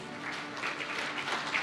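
An audience at an Independence Day event with the Indian Army chief as chief guest claps steadily during a memento presentation, a brief, even wash of applause heard at moderate distance.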